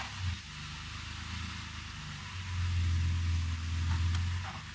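Idling engine of a 2005-2019 Nissan Frontier truck with automatic transmission, parked with the brake held, a steady low hum that deepens and grows louder as the gears are engaged, with no talking.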